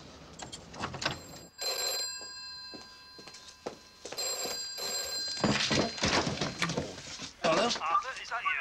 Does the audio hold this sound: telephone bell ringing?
yes